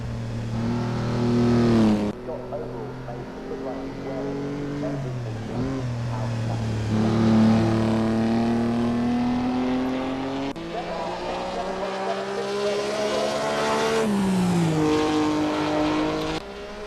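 A 1950s race car engine in the Assetto Corsa racing game snarls and revs hard and close, climbing through gears with a few sharp shifts and throttle lifts, loud and sustained with no talk.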